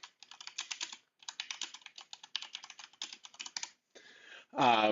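Someone types a folder name on a computer keyboard, making quick bursts of crisp, close key clicks separated by short pauses, followed by a brief voice at the end.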